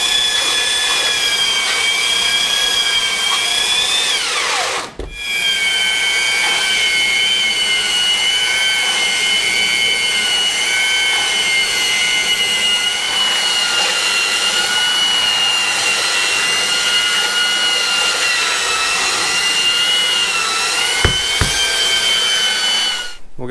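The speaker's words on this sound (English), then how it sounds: "I've settled on a belt sander and some 36 grit sandpaper." A belt sander fitted with coarse 36 grit sandpaper whines steadily and loudly up close, its pitch dipping briefly under load with a short cutoff, then running on in a sustained drone with no talking.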